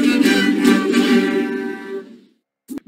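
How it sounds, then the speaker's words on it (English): A homemade cello built from an oil can and discarded wood, bowed in a sustained, buzzy, reedy tone that wavers and fades out over about two seconds, followed by a short knock. "This cello is made from an oil can and wood that was thrown away in the garbage."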